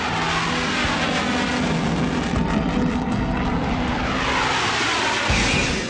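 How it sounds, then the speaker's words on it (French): Mirage 2000 fighter jet on its takeoff run, a loud, sustained roar with crackling, rushing texture from the burning kerosene, the tone sweeping and shifting as the aircraft powers away. "au décollage, on entend le kérosène crépiter."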